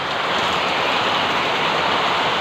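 Steady, loud rain in Quezon City hisses continuously, blended with a rushing wash of runoff water flowing nearby; no one speaks.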